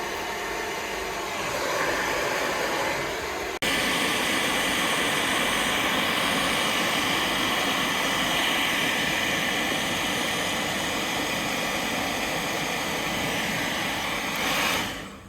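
A hair dryer heating car badge adhesive on a Renault Clio gives a steady, loud blowing whir throughout with no pauses, close by, ending with a brief fade.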